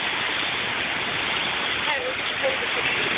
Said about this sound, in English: the water is still rising. And it is completely covering Route 61.